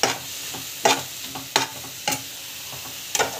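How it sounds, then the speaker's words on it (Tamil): Ginger-garlic paste sautéing in a pan, a steady sizzle broken by repeated sharp scrapes of a spoon stirring through it, close and fairly loud. "நல்லா வந்து வதக்கிட்டுக்கணும்"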